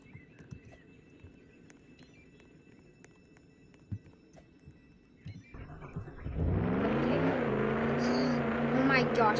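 A car driven in the Roblox game Jailbreak, quiet at first, then a loud, steady, buzzing engine drone that rises suddenly partway through and holds to the end, with a voice briefly audible.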